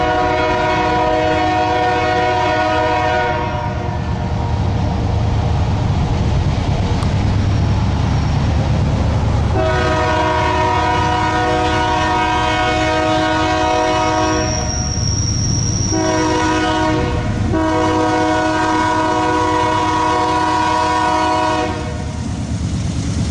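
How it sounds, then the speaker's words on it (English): A westbound BNSF oil train approaches at Goble and sounds its horn in long, loud blasts broken by short gaps, over a constant rumble of the locomotive and rolling cars close by. "here comes the train"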